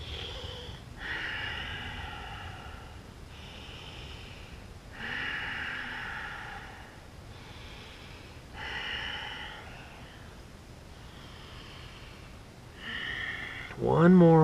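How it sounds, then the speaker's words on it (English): Deep breaths taken during a total-body stretching routine: about six slow, audible inhale-exhale cycles in a steady rhythm, close to the microphone, with a short voiced sound at the very end. "Five more breaths."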